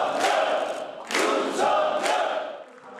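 Crowd cheering at a political party dinner, with repeated bursts of loud shouts and applause-like roars rising and falling over a few seconds.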